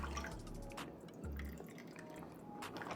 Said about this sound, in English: I like to take the same brine that I use and put it in something like this